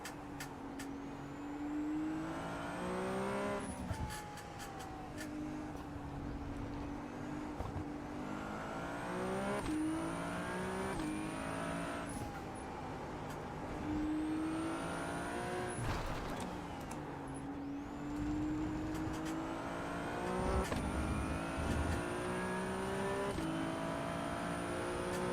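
A McLaren race car engine in a racing video game screams through repeated rising and falling revs as the car shifts gears and brakes into corners, loud and continuous over a long stretch.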